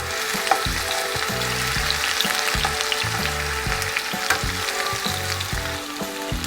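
Onions and vegetables fry in oil in a skillet for a Kazakh lentil soup base, giving a steady close sizzle with background music running throughout and no talking.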